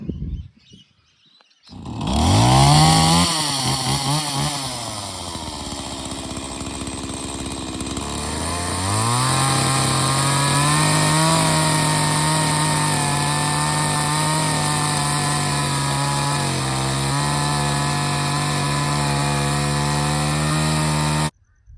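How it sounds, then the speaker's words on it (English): A chainsaw starts up and revs, then settles into a loud, steady whine as it bites through wood to rough-cut a yardpost, close and continuous for the whole stretch. "the next step is we're going to cut all this out with the chainsaw"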